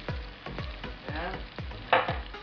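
Shrimp paste (bagoong alamang) stirred in a hot pan, a continuous sizzle with a regular series of scraping strokes, about four per second, close and fairly loud, without talking.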